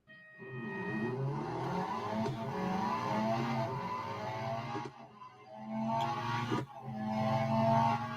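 Race car engines in the Real Racing 3 video game, with a Chevrolet C8 Z06 (2022), droning and revving loudly and steadily with shifting pitch, several cars layered together, one brief dip partway through.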